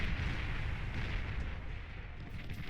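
Heavy artillery rumble from a Prometheus gun in the strategy game Beyond All Reason, a steady low booming roar with dense crackle, continuous and fairly loud throughout the short stretch.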